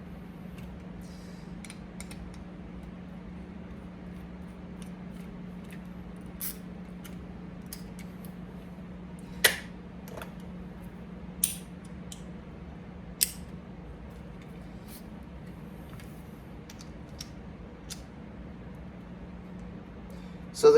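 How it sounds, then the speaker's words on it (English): Sharp, scattered clicks sound from the ratchet of a magnet camera mount for a 360 X4, about a handful of distinct snaps at irregular intervals over a quiet background with a low steady hum. "So the clicks on the ratchet"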